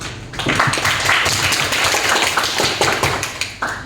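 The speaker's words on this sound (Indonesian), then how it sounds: "Kita beri aplaus dulu." A classroom of students claps for a classmate's presentation, close and loud, with brisk, uneven hand claps that start together and thin out toward the end, no voices.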